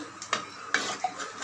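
Metal utensil scraping and clinking against a pot of okra sambar with tamarind in a few sharp strokes, close by, with a quiet background and no talking.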